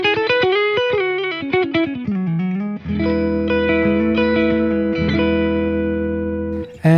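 Electric guitar played through a VOX StompLab modeling effects processor on a jazz clean preset with a slight touch of reverb: a quick run of picked notes, then a sustained chord ringing out alone.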